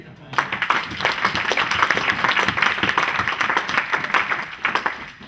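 A church congregation applauds during a French-language sermon, with dense, continuous clapping throughout and crowd noise mixed in, fairly close and steady.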